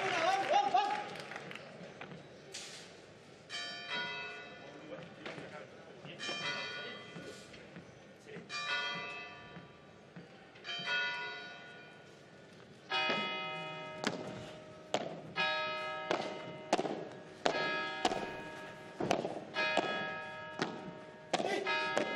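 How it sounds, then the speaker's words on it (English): Clock tower bells in the Plaza Mayor of Valladolid ring out at midday during a padel final, a series of bright, resonant strikes in clustered groups that grow louder toward the end, with scattered dull thuds between them. "Midday here in Valladolid, as you can hear from the bells of the clock tower here in the Plaza Mayor."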